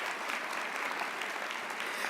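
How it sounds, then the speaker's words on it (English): Steady applause from an audience at a 2019 Celebrating Women Breakfast, fairly faint and even, with clapping sustained throughout and no voices on top. "Can we just give another round of applause?"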